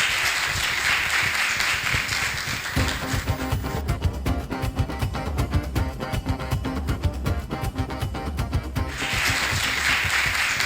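An audience at a festival launch press conference claps steadily and loudly at the start, then rhythmic music takes over. Applause swells again at the end, with little talking.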